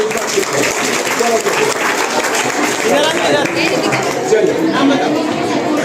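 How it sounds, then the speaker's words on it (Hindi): An audience claps for a girl holding a yoga pose at a session teaching difficult asanas, with dense, sustained applause mixed with crowd chatter and voices throughout. "इस बच्ची के लिए जोर से ताली बजाइए"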